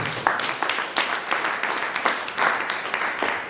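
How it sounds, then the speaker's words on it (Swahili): A church congregation breaks into applause during a sermon, a dense, steady round of clapping from many hands that lasts the whole short stretch. "Mpigie huyo Mungu makofi."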